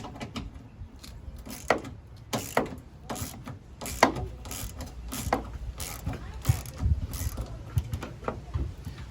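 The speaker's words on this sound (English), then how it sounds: "I'll get a nut driver and we'll get those off. All right, these are 8 millimeters." Metal clicks and ratcheting turns as a nut driver works 8 mm bolts loose on a 2019 Ford F250 fuel tank, a series of close sharp ticks and scrapes with intermittent low rustling.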